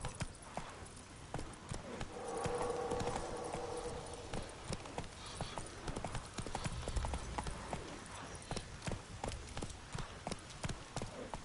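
Horse hooves from the video game Witcher 3 clip-clop in a quick, steady rhythm while riding, with brief clusters of louder footfalls and some game voice and ambience underneath.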